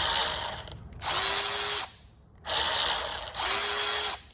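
A Milwaukee 2569-20 extended reach high speed cordless ratchet runs in two bursts of just under a second each, separated by pauses, with a loud whirring mechanical buzz close to the listener.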